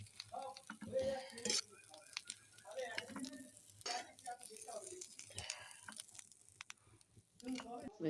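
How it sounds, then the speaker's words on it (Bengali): Fish frying in oil, with quiet intermittent sizzling, scraping and clinks of a utensil against the pan, and a voice talking over it throughout. "লাল লাল করে ভেজে নিয়েছি, আর একটু ভেজে নেবো"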